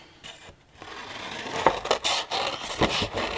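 Scissors snip through a drawn shape on paper or card for a craft hot chocolate holder, close crisp cuts and rustling scrapes coming in irregular bursts.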